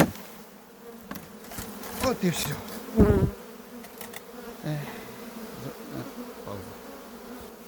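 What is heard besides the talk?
honey bees buzzing around hive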